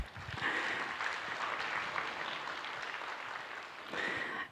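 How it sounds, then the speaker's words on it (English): Clapping from an evening welcome-ceremony audience greeting the seniors, a steady broadband patter of many hands that holds evenly for several seconds and swells again near the end. "yeah, we can clap"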